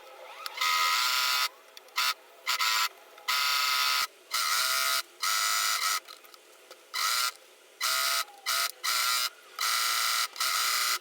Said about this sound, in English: and then stitch the rest of it